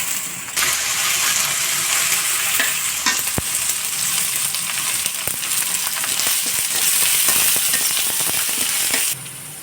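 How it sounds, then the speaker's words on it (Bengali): Spice paste of ground ginger, cumin and garlic with chili and coriander powders frying and being stirred in a pan, a loud continuous sizzle with scraping strokes of a spoon, cutting off near the end. "এখন আমি ভালো করে মশলাটা কষাবো।"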